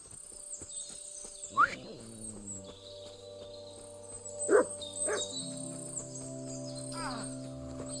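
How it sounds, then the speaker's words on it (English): A dog in the medieval role-playing game Kingdom Come: Deliverance II gives a few sharp barks and growls spaced apart, over quiet ambience with insects chirping and faint tonal game sounds. "That mutt bit me."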